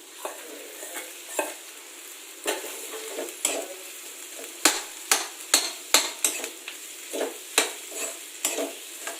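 Potatoes being stirred into a frying pan for samosa filling: repeated scraping stir strokes with light sizzle, close and fairly loud, in an irregular rhythm with no talking.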